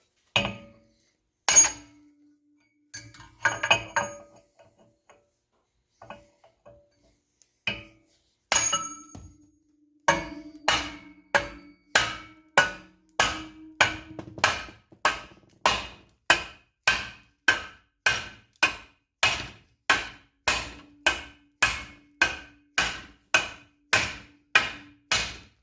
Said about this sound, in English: So we're going to start pounding all 4 bolts and the middle.